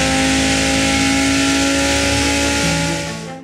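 An Audi R8 quattro supercar accelerates hard, its engine roaring loud and close with rising pitch and a gear change, then fading slightly at the end.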